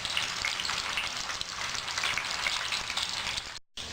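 Chicken kheema balls deep frying in hot oil until golden, producing a steady soft crackling sizzle with tiny popping bubbles, close but fairly quiet, and a brief drop-out just before the end.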